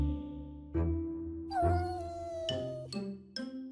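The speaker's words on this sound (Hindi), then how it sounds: "खतरनाक बिल्ली पापू चूहों के घर के दरवाजे की तरफ बैठकर चूहों का इंतजार कर रही थी" A cartoon cat in an animated Cinderella story meows in several drawn-out, sliding tonal cries, with clear gaps between calls.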